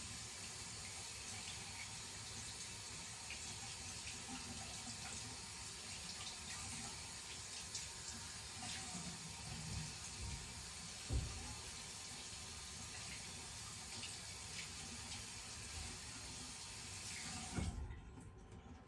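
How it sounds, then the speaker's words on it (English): Hot water runs steadily from a tap as a finger and a small tool are rinsed under it, a constant close hiss that ends abruptly when the flow is shut off near the end. "Hot water, rinse off my finger, rinse off my little tool."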